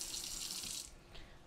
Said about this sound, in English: drain the water off the chicken, please